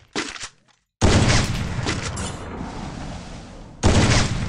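Gunfire in the mobile shooter Garena Free Fire comes as a short crack, a brief silence, then a long loud sustained burst of rapid shots and another sharp volley at the end, with no talking.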